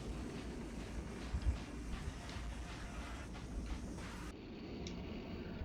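Time train in a GTA Back to the Future Hill Valley mod, a steady rumbling rail roll with faint clatter and one brief thump early on, continuous and fairly close, no talk.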